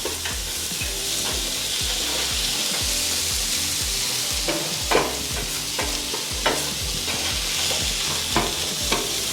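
An onion mixture sizzles in a pan while being stirred, with a continuous close frying hiss and repeated scraping, clattering strokes of the utensil against the pan throughout.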